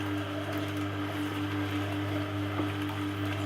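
A JR Ultra 8000 S2 slow juicer turns at 37 RPM while juicing cucumber and leafy greens, producing a steady, even motor hum with a fixed tone that holds throughout and no talking.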